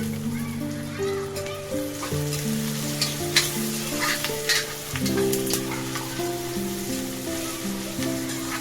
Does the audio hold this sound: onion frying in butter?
yes